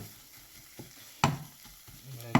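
Ghugni cooking down in a pan as its water runs out, a quiet steady sizzle broken by a few sharp spatters and pops.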